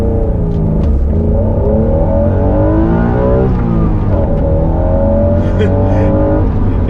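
A 1991 Acura NSX with its 3-liter V6 revs loudly from inside the cabin, the engine note rising and falling through several gear-like sweeps under continuous road rumble.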